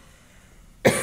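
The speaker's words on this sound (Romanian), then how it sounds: "Pe mine, scuzați-mă, dar mă tuse." A single sharp cough bursts out near the end of an otherwise quiet moment in an indoor seminar room, loud and close.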